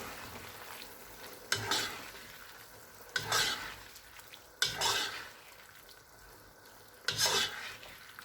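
Chicken frying in a pan as tomato ketchup is stirred in, with four distinct scraping strokes of the spoon at regular intervals over a steady low sizzle.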